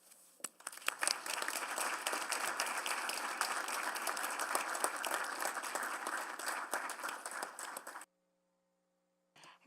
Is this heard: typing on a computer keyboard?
no